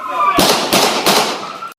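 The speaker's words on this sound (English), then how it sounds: "Constable Forcillo opened fire. And here's audio of those moments." Three police gunshots from a constable firing at a man holding a knife, loud sharp cracks spaced roughly a third of a second apart over steady background noise.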